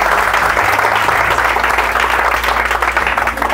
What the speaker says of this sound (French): Est-ce qu'on peut applaudir pour Samuel aujourd'hui?